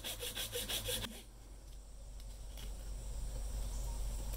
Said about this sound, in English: And then file that flat.